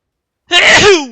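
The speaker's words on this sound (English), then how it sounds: "I need to sneeze." A single loud, close sneeze bursts out after a moment of silence, a sharp, breathy blast that trails off quickly.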